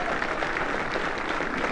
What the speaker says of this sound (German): jetzt haben Sie sogar noch geklatscht